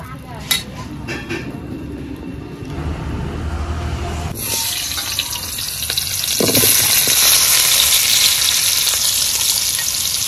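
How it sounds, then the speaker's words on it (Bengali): Potatoes frying in oil in a pan, a loud steady sizzle that intensifies as they go in, with scattered clinks of a utensil against the pan. "আলুগুলো তো লাল লাল করে ভেজে নিয়েছি"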